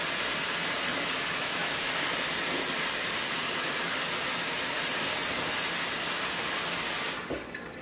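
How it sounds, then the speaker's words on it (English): Water pours steadily from a tap over clothes being hand-washed and rinsed, a loud, continuous broadband rush that stops abruptly near the end. "Put more water on this side."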